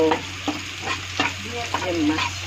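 Cumin seeds fry in hot oil in a pan as a fish curry is started, a steady close sizzle under a low hum, with occasional soft scrapes and clinks of stirring, no speech.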